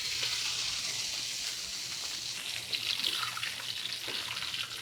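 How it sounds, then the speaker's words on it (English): Loose melted butter from a baked salmon en croûte pastry pours into a kitchen sink, making a steady hissing splash that runs unbroken with no one talking. "it made a lot of loose butter, which I'm gonna try to dump in the sink"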